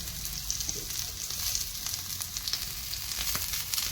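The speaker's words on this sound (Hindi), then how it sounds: "आवाज़ आना स्टार्ट हो गई है, तो मैं इसमें डाल दूँ मिर्ची एंड प्याज।" Chili and onion frying in a pan, a steady close sizzle with crackling pops throughout, no talking.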